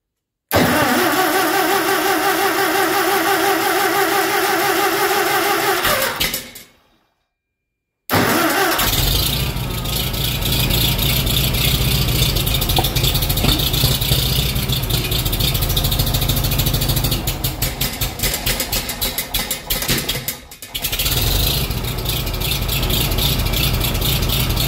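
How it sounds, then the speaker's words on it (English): A 1941 Farmall M tractor, converted to 12 volts with Pertronix ignition, cold-starts at about 20 degrees outside: the starter cranks, the engine catches, cuts out briefly, then restarts and settles into a loud, steady, slightly uneven idle. "41 Farmall M, 12 volt conversion, Optima battery, and Pertronix ignition. Cold start."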